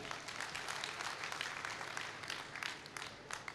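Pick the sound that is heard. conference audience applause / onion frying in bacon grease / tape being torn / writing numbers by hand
conference audience applause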